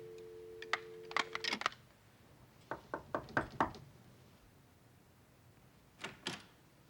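Knocks on a door inside a house at night, several sharp raps in quick bursts, a pause, then another cluster and a final pair, moderately close with no talk over them.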